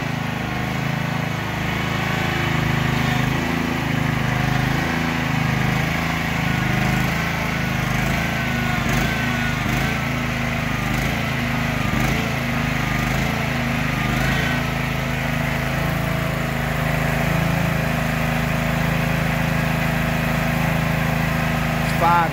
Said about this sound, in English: GX 630 Honda engines.